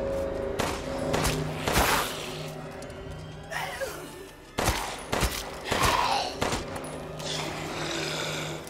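Rapid bursts of gunfire crack out repeatedly in Resident Evil Village, with clustered shots, a few loud single blasts and a gasp amid the action.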